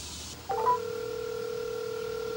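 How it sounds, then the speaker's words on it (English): A phone dials out for a call, giving a brief cluster of DTMF keypad beeps followed by a steady two-tone line tone that holds evenly over quiet background. "let's go ahead and make a phone call and see if we can contact the owner"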